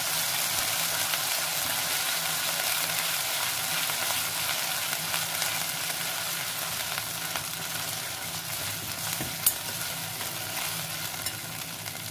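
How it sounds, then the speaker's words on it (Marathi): Coarsely crushed ginger and garlic sauté in a pan for a mixed vegetable dish, an even, steady sizzle heard up close, with one sharp clink of a utensil near the end. "पुन्हा हे व्यवस्थित परतून घेऊया"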